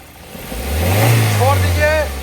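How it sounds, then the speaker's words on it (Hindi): A Maruti Suzuki Ertiga engine, checked for an idle speed noise problem, revs up from idle to a smooth, loud drone and eases back, close by, while someone talks over it. "एक बार और रेस कीजिए"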